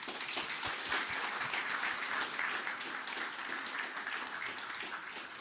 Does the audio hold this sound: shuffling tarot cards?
no